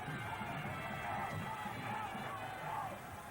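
A jubilant crowd at a 1996 World Cup one-day cricket match between Sri Lanka and Kenya in Kandy, a steady roar of distant massed voices with rising swells of cheering, continuous throughout.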